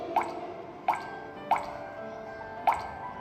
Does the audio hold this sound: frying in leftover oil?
no